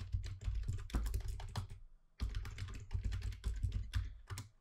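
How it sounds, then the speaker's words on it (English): Rapid clicking bursts of typing on a computer keyboard, close and clear, in two runs separated by a short pause, with no talking. "then start typing your signature"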